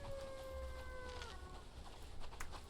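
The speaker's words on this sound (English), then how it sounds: "Another wolfo coming at us, it sounds like." A wolf in an MMO video game lets out a drawn, steady howl that slides downward and fades after about a second, heard faintly beneath dense, noisy game ambience.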